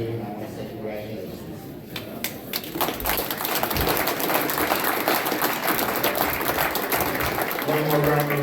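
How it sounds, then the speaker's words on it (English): Guests at a retirement party break into applause that builds from scattered claps into steady clapping, with people talking over it throughout. "One more round of applause before we cut the cake."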